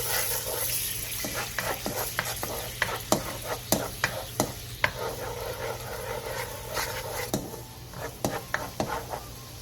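A soy-based seasoning sauce of oil, soy sauce, anchovy fish sauce, soju, sugar and minced garlic simmers and sizzles in a frying pan over medium heat. It makes a steady close crackle, with scattered utensil taps and stirring sounds.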